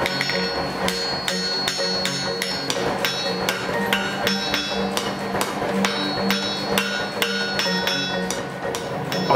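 Repeated ringing hammer blows on steel in a weapon-forging smithy, struck at a regular, fairly quick rhythm, each strike bright and metallic with a lingering anvil-like ring, close and loud throughout.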